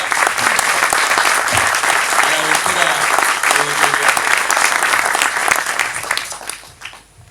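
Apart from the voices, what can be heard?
audience applause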